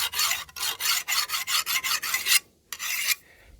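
A metal file rasps across a scythe blade in a regular series of about a dozen loud, close back-and-forth strokes, then a brief pause and one more stroke, with no speech.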